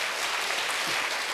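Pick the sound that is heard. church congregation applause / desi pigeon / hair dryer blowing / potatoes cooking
church congregation applause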